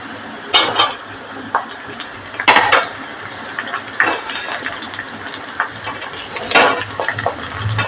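Onion, garlic, ginger and green chili being stirred as they fry in a pan for a fish curry, with repeated metal spoon scrapes and clanks against the pan over a soft sizzle, close and irregular, no voices.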